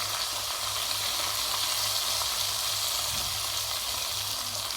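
Kaleji (liver) fries in a hot pan with crushed red chili and ground coriander just added, giving a steady, dense sizzle and hiss that continues without pause from start to end.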